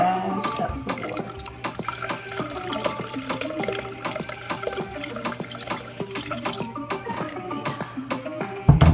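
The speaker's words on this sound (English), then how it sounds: "Yes, let me add more water." Water runs into a cooking pot while a flour-and-water gravy is made for a chuck roast, a steady close splashing trickle with clinks of the pot and kitchen handling.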